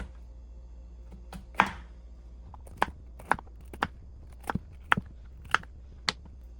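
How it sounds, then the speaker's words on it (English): A knife slices through a cleaned wild mushroom on a board, about a dozen sharp, separate cuts landing at an uneven pace over a quiet background. "We're just going to slice it up."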